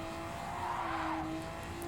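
A race car in the Gran Turismo 7 video game slides through a corner, with steady engine drone and a sustained tire squeal, fairly faint and without talk.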